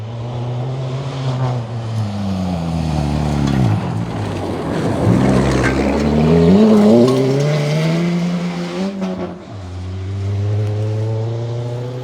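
Rally car racing through a stage of the Oregon Trail Rally, engine roaring loudly as it revs through gears, pitch climbing and dropping, passing close before fading into a steady drone; no talking.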